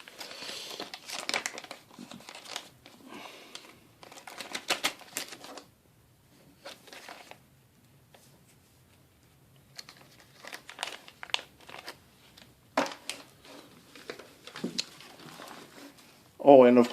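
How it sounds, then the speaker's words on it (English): Free plastic bags from a parts order crinkle up close during cleanup of an Acoustic Research AR11 speaker, in irregular rustling bursts separated by short quiet gaps. "you get plenty of free plastic bags."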